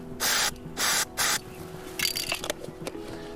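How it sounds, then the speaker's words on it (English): Three close hisses of animal marking spray from an aerosol can, each about half a second long, burst out in a quick sequence, then give way to softer handling rustles and clicks. "that's just a normal animal marking spray which will wear off in a few days"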